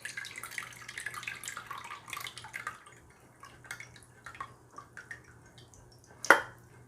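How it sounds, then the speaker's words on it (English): Liquid from canned artichoke hearts drains into bowls, a soft trickle and drip for a few seconds that fades to quiet before a single sharp clink, no voices. "I'm gonna go ahead and drain my artichoke hearts here. Let's just drain those into the bowls"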